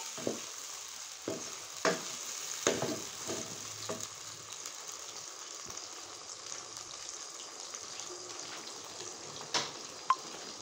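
Paste of two onions cooking in a pan over high flame, giving a soft steady sizzle with a few scattered stirring clicks and knocks, moderately faint.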